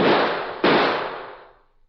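A single loud, sharp gunshot in a western drama, a second crack following closely, both ringing out and decaying into silence over about a second, with no voices.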